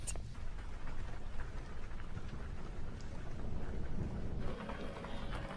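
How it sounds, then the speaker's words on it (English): Steady, dense heavy rain pours down in a slot canyon with a low rumbling wash of thunder underneath, broad and continuous throughout, with no voices. "The rain is picking up for sure."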